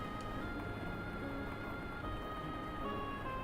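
Steady rain from the video game Fields of Mistria patters evenly throughout, a soft continuous wash with faint tonal game elements layered above.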